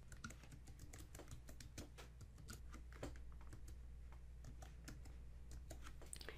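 Rapid, steady clicking of a computer keyboard as placeholder text is replaced, dense keystrokes close up at low volume and continuing throughout without any speech.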